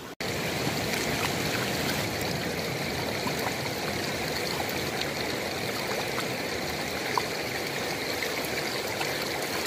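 Steady running creek water trickles and gurgles throughout, continuous and fairly close, during gold panning in a creek; no speech.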